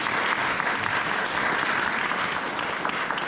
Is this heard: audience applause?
yes